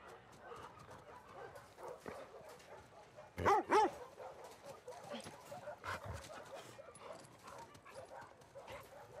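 Dogs in The Last of Us Part 2 bark and whimper amid game ambience, with a loud double bark near the middle and fainter yips around it, while voices murmur in the background.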